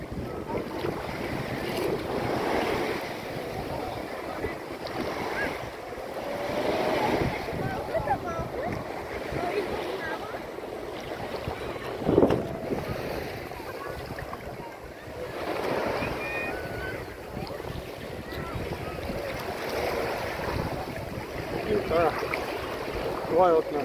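Sea waves wash onto a beach in slow, rolling surges under gusty wind buffeting the microphone, with rises and falls of surf across the whole stretch.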